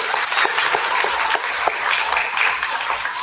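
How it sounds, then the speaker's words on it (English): A graduation audience at a summer school ceremony gives a big round of applause, dense and sustained clapping from a sizable crowd filling the whole stretch at strong, even loudness. "Give yourselves one more big round of applause."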